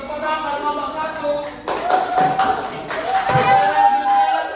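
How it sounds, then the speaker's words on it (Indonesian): A classroom of elementary pupils applauds a group of students, the clapping rising from about two seconds onward, dense and moderately loud, mixed with children's voices and a steady high tone. "tepuk tangan buat kelompok 1"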